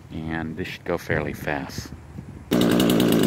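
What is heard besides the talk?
chainsaw running while cutting a tree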